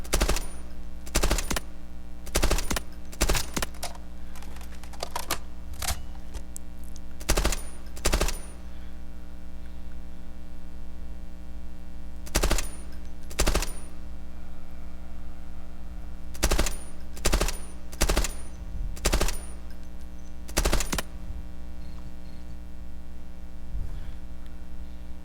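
Repeated bursts of automatic gunfire in the Delta Force video game, sharp rapid volleys recurring at irregular intervals over a steady low background hum, loud and close.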